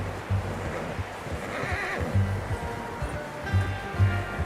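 Horse in the game Red Dead Redemption 2 gives a loud whinny, with low snorting and breathing, hoof clip-clop and background rumble through the stretch; no talking.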